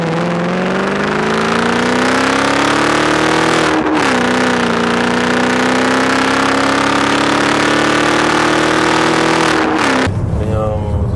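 A BMW 645ci V8 roars loudly from outside, a steady, strong engine drone that climbs slowly in pitch as it accelerates. It dips briefly partway through and cuts off abruptly near the end.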